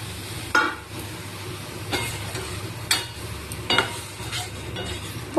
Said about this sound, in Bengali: মশলাটা ভালো করে কষিয়ে নেবো, অল্প অল্প জল দেবো আর কষিয়ে নেবো।